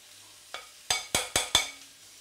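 A spoon scrapes around a pan of milk sauce with nutmeg, white pepper and garlic: one light stroke, then four quick, fairly close scraping strokes in steady rhythm, with quiet gaps between and no talk.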